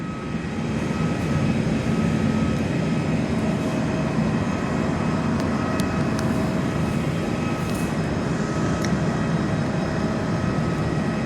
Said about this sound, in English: Qantas F100 coming to land at Perth.